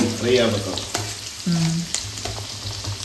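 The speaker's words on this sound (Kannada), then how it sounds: "ಆನಿಯನ್ ಹ್ಞೂ ಉಳ್ಳಾಗಡ್ಡೆ ಹಾಕೊಂಡ್ರಿ ಈಗ ಚೆನ್ನಾಗಿ ಮಿಕ್ಸ್ ಮಾಡ್ಕೋಬೇಕು" Chopped onions fry and get stirred in a hot pan while making Maggi noodles, a steady sizzle punctuated by scraping stirs, close and fairly loud, with brief speech-like voice sounds over it.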